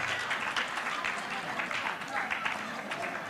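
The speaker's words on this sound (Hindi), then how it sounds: "सब पीड़ित लोग तालियां बजा रहे हैं" Audience at a RANA convention clapping steadily throughout, a dense broadband patter of many hands at moderate level, with crowd murmur mixed in underneath.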